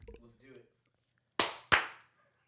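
Two sharp, separate hand claps, close and crisp, with a short gap between them, after a little quiet talk in a podcast setting.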